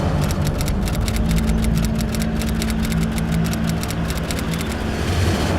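A car engine runs loud and close as a police superintendent's vehicle arrives, with a steady droning hum and a rapid regular pulsing throughout.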